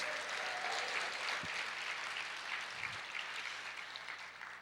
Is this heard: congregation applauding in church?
yes